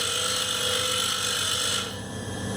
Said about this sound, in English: Going to come out and make 3 rough cuts.